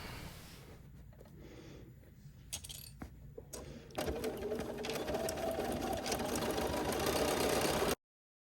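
A sewing machine stitches a seam on a quilted sailboat tote bag, starting with a few scattered clicks and handling sounds, then breaking into a steady, fairly loud whir about halfway through that runs until the clip cuts off.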